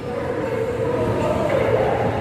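Steady rumbling roar of a long-distance passenger train running at speed, heard from inside the carriage as a continuous loud drone without distinct clacks.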